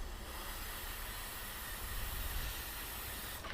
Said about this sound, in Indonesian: kita semprot lagi yang bagian tadi yang belum kita semprot